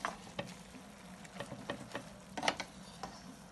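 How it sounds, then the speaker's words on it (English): Spinach and squid stirred in a pan, with soft sizzling beneath scattered clicks and scrapes of the utensil, fairly quiet and close. "Okay, the spinach is soft, and now I will mix it well."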